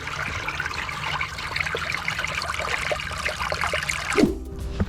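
Water draining from a pond after a check valve is pulled during a winter shutdown, a steady rushing trickle close by that ends in a brief clunk, with no talk.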